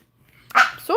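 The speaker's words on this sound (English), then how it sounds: "She barks so much at me" A dog barks once up close, then a rising whine follows right away, loud and brief in a quiet indoor room.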